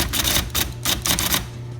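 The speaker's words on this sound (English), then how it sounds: "So as you're typing, and the ball's typing," A 1973 IBM Correcting Selectric II electric typewriter types with its typeball, a steady run of close, crisp mechanical strikes over a constant motor hum, no voices.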